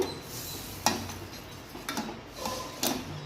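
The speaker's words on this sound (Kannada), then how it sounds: "ಅದನ್ನ ಚೆನ್ನಾಗಿ ತಿರುಗಿಸ್ಕೊಳ್ಳಿ ಗಂಟಾಗ್ದಿದ್ದಂಗೆ ನೋಡಿ ಫ್ರೆಂಡ್ಸ್ ಹಿಂಗೆ ತಿರುಗಿಸ್ತಾನೆ ಇರಬೇಕು" Spoon scraping and stirring semolina sajjige cooking in milk in a pan, soft irregular metallic clinks and swishes at a slow rhythm, fairly quiet and close.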